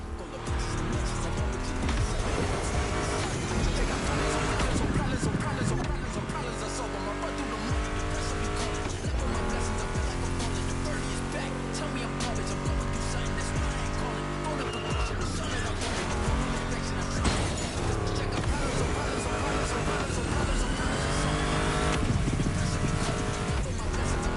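Mustang GT muscle car engines roar throughout a race in the video game The Crew Motorfest, loud and sustained with shifting revs and tire squeals, under a steady music track.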